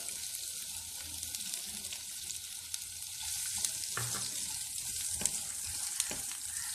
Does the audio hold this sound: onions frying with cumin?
yes